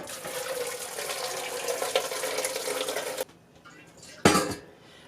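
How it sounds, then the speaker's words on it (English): Tap water runs steadily into metal canning pots for about three seconds, then stops; a short gush and clatter of pots follows, with quiet kitchen sounds between. "So we'll fill it with water with both of the canners."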